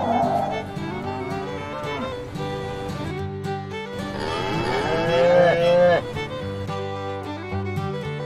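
A plastic toy cow stuck in mud, with long, drawn-out low mooing calls, accompanied by a musical background and what may be a voice.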